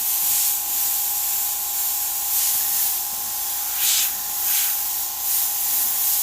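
An airbrush spray gun hisses steadily with a constant airy spray of paint, swelling in short bursts every second or so, close and fairly loud.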